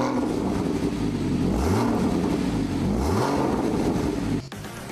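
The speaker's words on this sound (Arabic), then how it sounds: "ويمكن البدء بهذا بعد فتح هذا الغطاء ليبدأ المحرك بالهدير" A Porsche Boxster Spyder's 3.8-litre flat-six roars nearby, revving up and down in repeated loud surges before cutting off abruptly.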